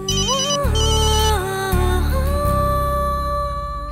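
A mobile phone ringtone plays a bright, melodic electronic tune, loud and steady throughout, with repeating chimes over a pulsing beat and no voices.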